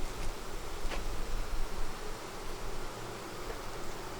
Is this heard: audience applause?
no